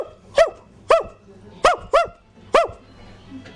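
A voice mimics an Alsatian dog barking, five sharp, gruff barks delivered close and loud in an uneven rhythm, with a faint breathy sound after the last one.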